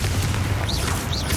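A fire-blast spell explodes in the Hogwarts Legacy video game, a short muffled boom that rolls through a dense, rumbling game soundscape with bright whooshing streaks above it.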